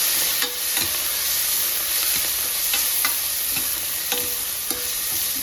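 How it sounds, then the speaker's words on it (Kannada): Green chillies fry in hot tempering oil with cumin, a steady loud sizzle running throughout while a spoon stirs and scrapes the pan in repeated light strokes. "ಮೆಣಸಿನ್ಕಾಯಿಯು ಕೂಡ ಒಗ್ಗರಣೆಯಲ್ಲಿ ಬೇಯಿಸ್ಬೇಕು"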